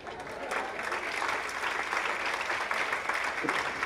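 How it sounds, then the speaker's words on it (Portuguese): An audience at an entrepreneurship talk applauds the special effects after a film clip, with dense, steady clapping across the room at moderate level, sustained for a few seconds. "Palmas para os efeitos especiais."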